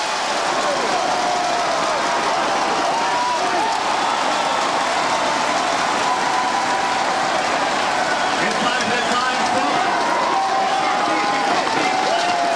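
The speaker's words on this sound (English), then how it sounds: "Timeout taken as Jadwin erupts." Loud, continuous roar of a packed college basketball crowd at Princeton's Jadwin Gym during a timeout against Penn, a dense wall of cheering and shouting with no letup.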